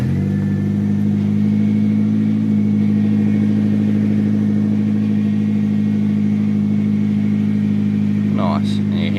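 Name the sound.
AE92 Corolla engine running with power steering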